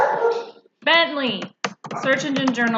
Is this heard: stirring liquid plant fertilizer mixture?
no